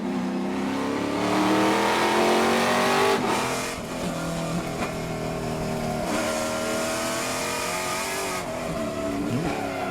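Trans Am race cars roar around the Laguna Seca circuit, engines revving up and down through the gears in a loud, continuous pass with a brief tire squeal as one car spins but stays on the tarmac.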